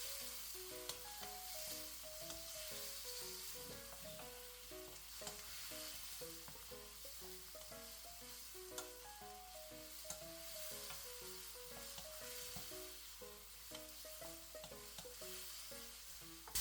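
Pork belly sautés in a pan with garlic and onion, a soft, continuous sizzle heard faintly beneath gentle background music, with no one talking.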